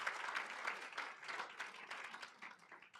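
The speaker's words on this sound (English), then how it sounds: "Give Dick another round of applause." Applause from diners at an honorary degree dinner, a fairly faint, uneven patter of many hands clapping in a room, rising and falling slightly and tapering off toward the end.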